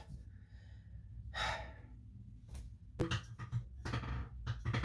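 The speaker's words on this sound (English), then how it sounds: "Just gonna take a big breath, center myself." A person draws a deep breath in and lets it out, close and soft with breathy noise, in a quiet room before getting ready to try a hair color remover on blue hair.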